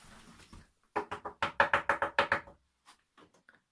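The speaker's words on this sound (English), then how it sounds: "I'm just knocking the wall" Knuckles rap on a household wall in a quick burst of about ten sharp, even knocks, close and clear, followed by a few faint taps.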